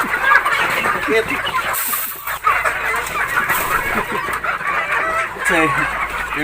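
Native chickens cluck and chatter continuously while feeding in a Philippine farmyard, with busy overlapping calls close by and a person talking intermittently.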